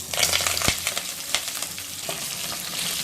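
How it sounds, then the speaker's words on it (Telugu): Curry leaves, onions and green chillies frying for a drumstick leaf and coconut curry, a busy close crackle and hiss with a sharp pop and a few quick stirring clicks, no voices. "ఇవి వేగిన తరువాత కరివేపాకు, ఉల్లిపాయలు, పచ్చిమిరపకాయలను వేసుకోవాలి"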